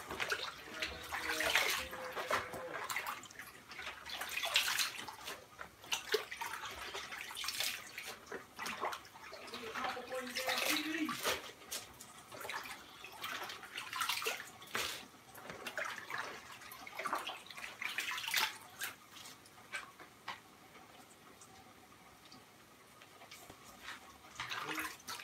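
A head of cabbage is swished and rinsed in a basin of water, giving repeated sloshing splashes and running-water bursts with brief quieter gaps, close and fairly loud, with no talking.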